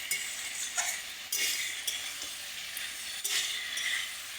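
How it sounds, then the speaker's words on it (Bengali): Small cut crabs sizzle steadily in hot oil in a pan while a utensil stirs them, giving a few sharper scraping strokes over the continuous frying hiss, close up. "কাঁকড়াটা দিয়ে একটু ভালো করে কষিয়ে নেব।"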